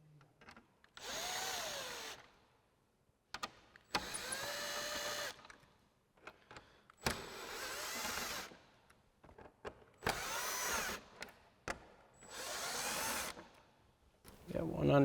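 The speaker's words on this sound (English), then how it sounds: "grab our 7mm socket on our impact and start removing our screws for our bracket" Impact driver with a 7mm socket backing out turn signal bracket screws on a 2015-2017 Ford Mustang, loud whirring bursts of about two seconds each repeated five times with short pauses between, close by.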